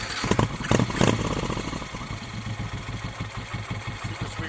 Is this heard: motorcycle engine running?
yes